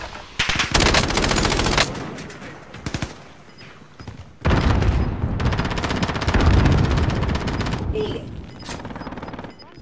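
Rapid bursts of automatic gunfire with shots and explosions in a battle royale video game, loud and sustained across most of the stretch with brief gaps, no talk over it.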